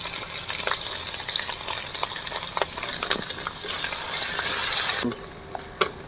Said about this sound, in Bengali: আদা রসুন দেখুন এইভাবে লাল করে ভাজা হয়ে গিয়েছে